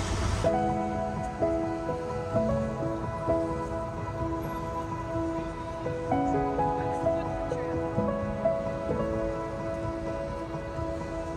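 Drizzling rain outdoors in Grozny, Chechnya, a steady hiss of drops on surfaces with a few faint tonal notes over it, continuous and moderately loud, with no talking.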